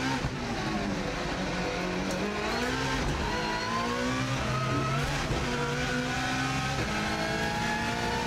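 A race car on an Isle of Man TT lap roars continuously at high revs, its engine pitch rising and falling through gear changes, loud and close from onboard with steady wind and road noise.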